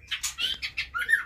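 A female white-rumped shama (murai batu) in a breeding enclosure sings a rapid run of short, bright whistled chirps, about six quick phrases in a row, close and clear over a low background hum.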